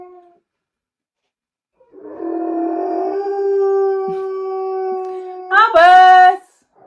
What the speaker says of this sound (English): We might be getting a full howl in a minute.